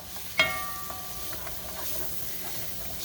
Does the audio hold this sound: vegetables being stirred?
yes